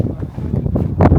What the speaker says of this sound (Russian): Также метет снег, прям метет, и ветер задувает.